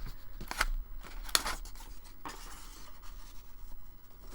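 Scissors snip through paper in a few quick, crisp cuts, close and fairly quiet, then fade into soft rustling of a papercraft project.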